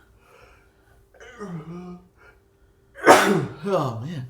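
A loud, sharp sneeze bursts out after some soft speech, followed by a short voiced exclamation.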